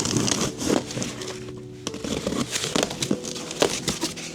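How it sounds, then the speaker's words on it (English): Cardboard crinkles and tears as a box holding a Begode Panther electric unicycle is cut open from the bottom, with close, irregular scraping, slicing and rustling bursts and a short pause midway. "So let's open this from the bottom."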